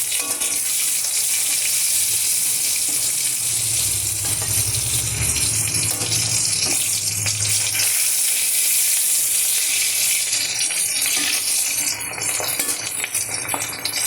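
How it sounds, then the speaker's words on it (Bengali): Fish frying in oil in a wok, a dense continuous hiss and sizzle, close and loud, with a brief low hum partway through and the sizzle continuing to the end, no talk. "এটা খুব সুন্দর করে ভেজে নিয়েছি আমি। মাছগুলো যে এত ভালো"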